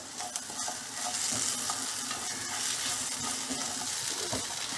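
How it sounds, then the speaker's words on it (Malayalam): Dried manthal fish is stirred into a frying masala in a pan, giving a continuous soft sizzle with scraping stir strokes throughout, fairly quiet and close. "ഈ സമയം നമ്മൾ നേരത്തെ മുറുക്കി വെച്ച മാന്തളുണ്ടല്ലോ ഇതിലേക്ക് ഇട്ട് കൊടുക്കാം കേട്ടോ എന്നിട്ട് കൂട്ടുമായിട്ട് നന്നായിട്ടൊന്ന് ചേർത്ത് കൊടുക്കുക"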